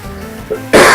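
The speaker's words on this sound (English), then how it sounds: "I'm just trying to fight coughing right now." A single short, sharp cough bursts out near the microphone at the very end, after a brief quiet stretch.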